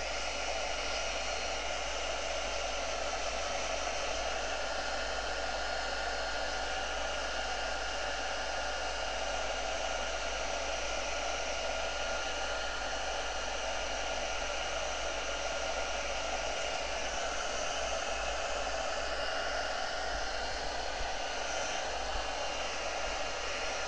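A hair dryer blows steadily on a wet Brusho ink painting, a loud, continuous broadband whoosh with motor hum that runs unbroken from start to finish with no voices.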